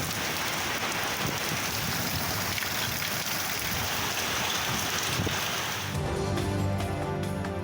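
Steady rain in news report footage, a dense continuous hiss of falling drops that stays loud and even throughout, with a brief change in texture near the end.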